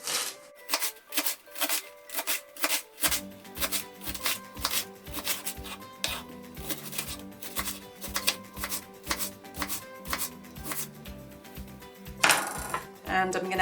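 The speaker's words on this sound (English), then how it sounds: "I can just chop it like with all my other veggies." A knife chops sweet potato on a chopping board in a steady run of crisp, evenly spaced strikes, close and clear, with soft background music underneath.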